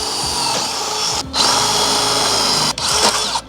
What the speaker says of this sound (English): So now I'm gonna come in here and I'm gonna drill this.